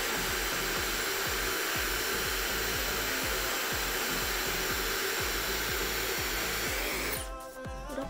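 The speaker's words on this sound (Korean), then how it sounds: "드라이기는 저는 다이슨 드라이기를 사용해요" A Dyson hair dryer blows continuously with a loud, steady high-pitched whoosh at close range while hair is styled with a round brush, cutting off abruptly near the end.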